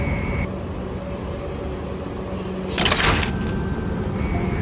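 A city bus in Canada gives a steady low engine hum from inside, broken near the middle by a brief, sharp hiss like an air release.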